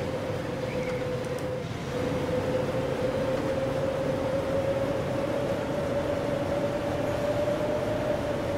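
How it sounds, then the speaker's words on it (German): Train rolling into a station in the Transport Fever 2 game, a steady loud rumble of wheels with a sustained tonal hum running throughout, no voices over it. "Ah, jetzt kommen wir in den Bahnhof rein."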